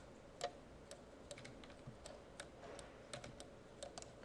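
Keys clicking on a computer keyboard during design work, a few sharp taps and a short run of light typing spread across the moment, quiet and close with no talking.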